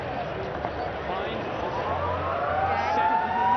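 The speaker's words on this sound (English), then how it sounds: "Half-time siren sounds." Half-time siren at a rugby sevens match between New Zealand and Scotland in Dubai, a rising wailing tone that grows louder toward the end beneath crowd noise and a commentator speaking.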